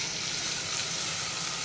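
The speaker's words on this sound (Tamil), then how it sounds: "இதில் பொடியாக நறுக்கின வெங்காயத்தை வதக்கிடணும்." Finely chopped onions sizzle steadily in hot oil, a close, even crackling hiss with no break.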